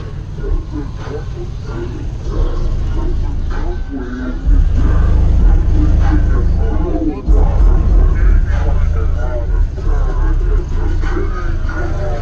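A 3,000-watt car audio system plays loud, booming bass that swells heavier partway through, with a crowd chattering and cheering around it.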